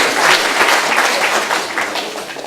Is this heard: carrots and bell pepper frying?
no